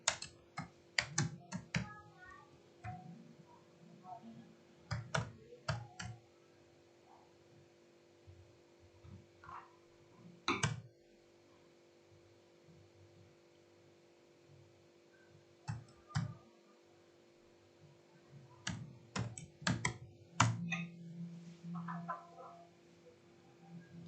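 Bursts of typing on a computer keyboard come in short quick runs of key clicks separated by pauses, close and crisp over a faint steady electrical hum, with no talking.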